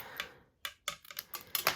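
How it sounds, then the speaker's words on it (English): Scissors trimming the edge of a layered card panel for a handmade birthday card, a few quick crisp snips in close succession, near and clear with no talking. "I'm going to just trim it off with my scissors"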